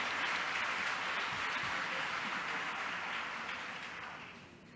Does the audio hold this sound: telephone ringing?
no